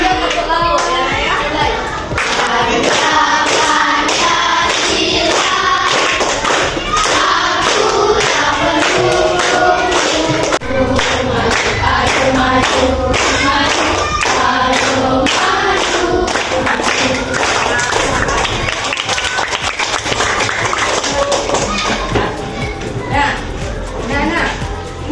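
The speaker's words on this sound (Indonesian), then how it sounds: "Boleh sambil tepuk lagu ya" Schoolchildren in a fifth-grade class sing the national anthem together while clapping along, a loud, continuous mix of young voices and rhythmic hand claps filling the room.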